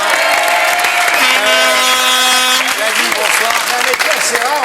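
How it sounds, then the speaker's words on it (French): A television game-show studio audience applauds, the clapping sitting under loud overlapping voices and a sung or sustained tone, with talk continuing across the whole stretch. "on applaudit le professeur Roland"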